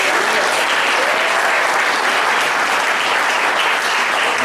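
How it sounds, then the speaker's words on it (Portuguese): Church congregation applauding for Jesus during an evening revival service, dense, steady clapping from a large crowd filling the room at full volume for several seconds. "Quantos poderiam dar uma salva de palmas ao Senhor Jesus esta noite?"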